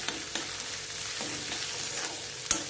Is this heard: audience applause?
no